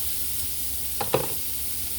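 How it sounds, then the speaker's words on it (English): Margarine sizzles in a frying pan with a steady hiss and crackle, joined midway by two quick clinks or stirring knocks. "that's the margarine in sizzling"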